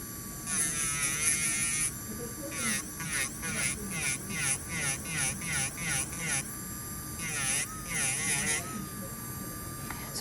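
A rotary polishing wheel smooths a silver ring with a steady high whine that rises and dips in pulsing bursts as the piece is pressed and lifted, close and continuous, with a voice talking underneath.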